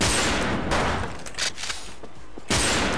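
Gunfire in the online shooter Wolfteam: dense, continuous automatic fire that fills the whole stretch, with a brief gap before another heavy burst near the end; no speech.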